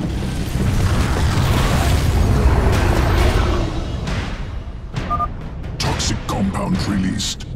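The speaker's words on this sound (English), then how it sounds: "Destroy that containment cell and free those all" Booming explosions rumble as a containment cell is destroyed in StarCraft 2: Heart of the Swarm, a loud low blast fading into scattered crackles and mechanical clanks, with a voice speaking over part of it.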